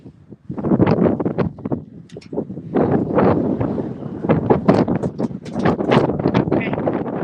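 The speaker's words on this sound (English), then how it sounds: "You can hear that wind blowing." Wind gusts outdoors on a cold day, buffeting the microphone in rough, irregular bursts that rise and fall close by, with no other clear sound.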